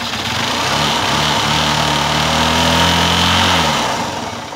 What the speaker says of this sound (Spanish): voy a dar arranque la moto para ver si